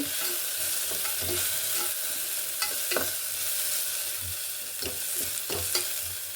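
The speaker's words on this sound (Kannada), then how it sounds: "ಸಣ್ಣ ಟೊಮೆಟೊ ಹಾಕ್ತಾ ಇದ್ದೀನಿ ಇದು ಸ್ವಲ್ಪ ಫ್ರೈ ಆಗಲಿ ಎಣ್ಣೆಯಲ್ಲಿ" Chopped tomato sizzling and frying in oil in a pan for vegetable pulao, a steady crackle with occasional stirring scrapes and soft clicks, close and alone with no talk.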